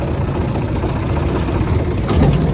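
A tractor engine idles and runs steadily nearby at a farm, a continuous low rumble with no talking.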